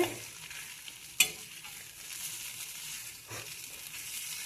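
An egg dish sizzles on a hot dosa griddle, a steady close frying hiss broken by a sharp scrape and a few stirring strokes.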